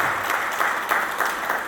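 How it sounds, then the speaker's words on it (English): An audience claps for panelists at a DJ discussion event, a dense burst of applause from a crowd, close and steady throughout. "Let's give our panelists a big round of applause."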